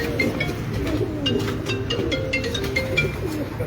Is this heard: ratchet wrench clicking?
no